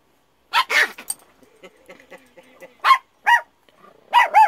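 A tiny 3 lb Yorkie and a neighbouring male dog let out several sharp, close barks and yips in short bursts, with quiet gaps and faint murmuring between them.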